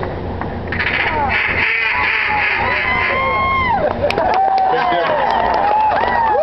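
A realistic duck call imitation at a live outdoor Q&A gives a series of loose, natural-sounding quacks with falling pitch, less rhythmic than a contest routine, over crowd murmur and reactions.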